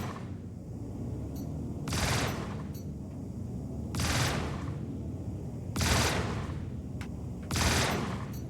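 Four loud bursts of automatic cannon fire from ships in a Star Citizen space dogfight, each lasting about a second, spaced a couple of seconds apart over a steady rumbling background.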